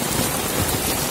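Heavy rain pours onto a street in Mumbai, India, a dense, loud, even hiss of drops that continues without a break.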